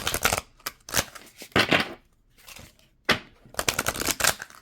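Halloween-themed cards are shuffled in quick riffling bursts, loud and close, with short pauses between rounds and no voices.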